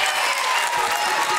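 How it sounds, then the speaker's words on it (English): A church congregation clapping during a sermon, a dense wash of applause filling the room, steady and loud, with a sustained tone from music or the sound system beneath it. "I see some of you not clapping"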